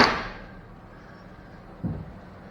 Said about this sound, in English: Couple of taps with the adjustable hammer.